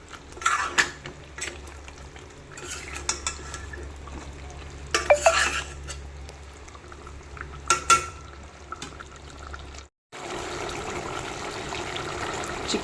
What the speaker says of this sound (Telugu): వాటర్ అంతా ఇంకిపోయేదాకా కూడా బాగా కుక్ అవనివ్వాలి.